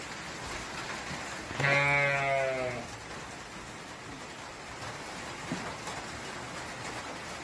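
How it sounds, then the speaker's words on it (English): A sheep on a farm gives a single clear bleat from a short distance during morning rain, with a steady patter of rainfall continuing throughout. "Happy sheep, happy goats."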